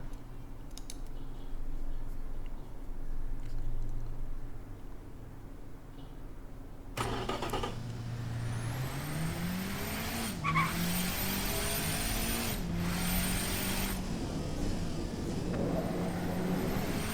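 A turbocharged car in the Automation driving game revs up hard from standstill to 100 km/h, its engine note climbing steadily through gear changes after a quiet idle, loud and continuous with no talking.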